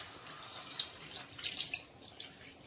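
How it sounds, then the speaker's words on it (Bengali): Water poured from a vessel into partly cooked mutton curry in a pan gives a faint, brief trickle and splash, heard alone at low level. "এবার আমি তাতে কিছুটা পরিমাণ জল দিয়ে দিচ্ছি"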